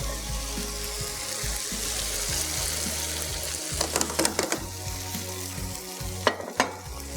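Masala frying in a pan sizzles steadily as water is poured in, with a few sharp clatters and stirring knocks near the end.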